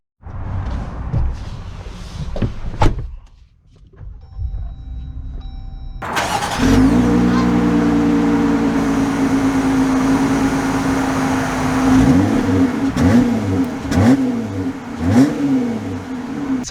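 Jeep Gladiator Mojave pickup starts up with a sharp crank and catch, then idles and rumbles steadily before revving and pulling away, loud and close from inside the cab with no talk.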